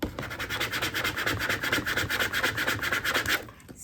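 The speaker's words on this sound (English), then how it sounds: "Take a little scraper." Small scraper rubbing back and forth over vinyl on a Hello Kitty design, a quick rhythmic scratchy swishing of repeated strokes, close and fairly quiet.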